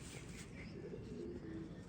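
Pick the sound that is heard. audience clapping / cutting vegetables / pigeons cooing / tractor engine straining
pigeons cooing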